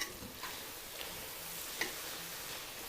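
Onions and sauce cooking down in a pan on low heat, giving a faint, steady sizzle and bubbling with a few soft ticking pops scattered throughout.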